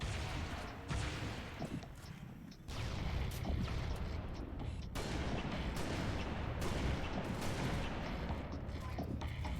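Rapid gunfire and explosive booms in the Halo Reach video game, dense and continuous with sustained bursts and loud blasts, a voice occasionally heard under the shooting.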